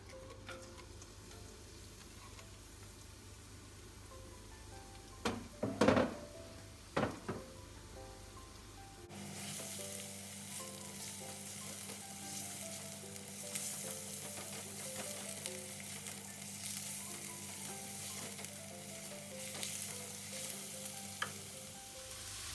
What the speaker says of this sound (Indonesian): tumis bawang putih bawang merah terlebih dahulu